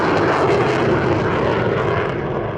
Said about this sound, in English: Now the F-35's version of a weapons bay pass